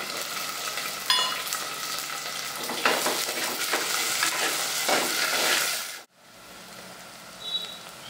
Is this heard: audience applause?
no